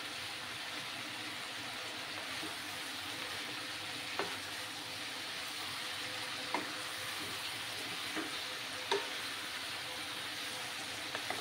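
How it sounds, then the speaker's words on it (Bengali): Mixed vegetables sauté in a pan for a vegetarian sabji, a steady soft sizzle with occasional faint scrapes of stirring, quiet and close with no talking. "ভালো করে আরো কিছুক্ষণ এইভাবে আমাকে কষিয়ে নিতে হবে।"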